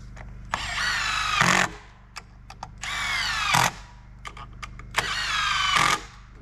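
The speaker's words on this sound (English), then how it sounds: "Those screws you just drove in, the power it took to do that" Power drill driving screws into timber porch framing on an off-grid build, three loud bursts of whirring with rising pitch, each ending in a short heavy grind, separated by quieter pauses with light clicks and knocks.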